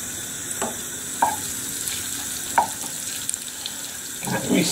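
Steak being stirred in a hot pan, with a steady sizzle and frying hiss under scattered scraping clicks of a utensil, ending in a louder burst of sizzling.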